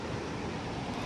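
The Sankhuwa river at Bumlingtar, Bhojpur, flows in a steady, dense rush of water that fills the short stretch evenly, close and constant with no pauses.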